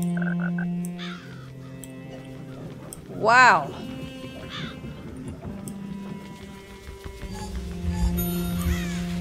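A crow in the video game Child of Light caws with a strained, warbling cry that rises over layered game music, while a person talks and exclaims.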